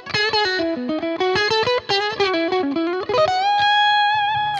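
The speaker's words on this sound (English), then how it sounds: "The depth control controls the length of the reverb tail, which emulates the size of the acoustic space." An electric guitar played through a Neunaber Audio Element reverb pedal, a fast run of distorted notes followed by a sustained chord whose reverb tail rings out smoothly, loud and close with no talking.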